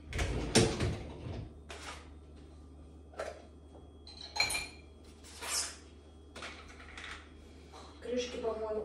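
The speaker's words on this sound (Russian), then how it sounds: "убираю банки в посудомоечную машину" Glass jars and their lids clink and knock as they are loaded into a dishwasher in a home kitchen, a series of short, fairly quiet clatters spaced a second or so apart with soft handling noises between.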